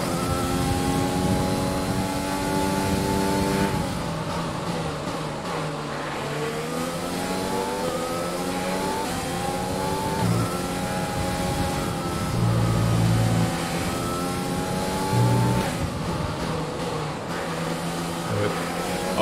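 A Formula 1 car engine in F1 2020 screams loudly and continuously through a five-lap race, its pitch climbing and dropping with gear shifts and braking, heard alone without talk.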